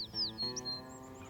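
Several quick, high chirps from a bird in Los Mochis, Mexico, clear and fairly close, over a steady low hum, with no talking.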